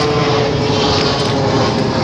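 An airplane flying overhead during a rainy morning in a yard, a loud steady engine roar that fills the air without any talk.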